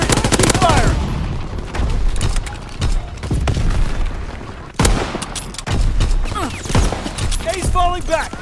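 Bursts of gunfire and booming explosions in the World War II shooter Call of Duty WWII, loud and repeated across the clip, with shouted voices mixed in.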